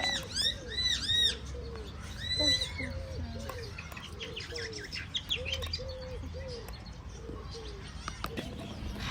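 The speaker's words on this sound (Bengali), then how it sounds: "অনেক ধরনের পাখি" Birds call in Queens Park, Loughborough, where parrots are among the many species: bright repeated chirps and whistled notes alongside a run of soft cooing, moderately near over faint outdoor ambience.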